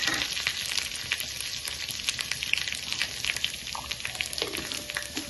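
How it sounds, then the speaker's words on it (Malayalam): Dried red chillies sizzle and crackle in hot oil for a Kerala jackfruit-seed and mango curry tempering, a steady close frying hiss with scattered pops and a faint stir near the end. "ആവശ്യത്തിന് ഉണക്കമുളക് ഇട്ട് കൊടുക്കാം."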